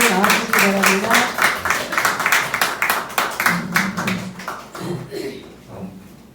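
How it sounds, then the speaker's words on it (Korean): Audience applause at a Korean talk event as guests, two class mothers and a book's author, are welcomed onto the stage. Steady clapping from a crowd throughout, with voices mixed in, thinning toward the end. "따뜻한 박수로 모시겠습니다"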